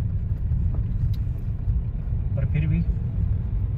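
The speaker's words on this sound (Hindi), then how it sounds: "इतना ट्रैफिक है, इतना जाम है, पिछले लगभग एक घंटे से ट्रैफिक है यार" Traffic jam on a road near Shimla, with a steady low rumble of idling cars and engines close around, while a person talks over it.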